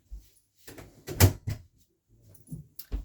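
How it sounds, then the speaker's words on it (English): Household door being shut firmly amid work noise around the house, giving a series of close knocks and thuds with a louder bang near the middle, plus faint rattles. "I'll just close the door tightly because it's too noisy."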